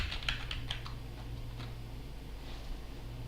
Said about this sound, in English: Let me type in Discord.